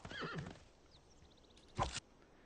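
Horses in the strategy game Civilization VI give a short whinny followed by a louder neigh with faint hoof clip-clop, heard alone and fairly close.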